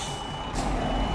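A truck's reversing alarm in the Euro Truck Simulator 2 video game, a steady electronic beep close and loud over a low engine rumble.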